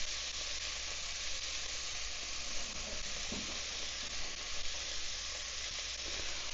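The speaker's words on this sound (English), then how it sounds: "In goes the celery, onions, everywhere, hopefully mostly in the pot." Chopped celery and onions sizzle in a hot pot for red beans and rice, a steady, even hiss with a brief clatter midway and no talking.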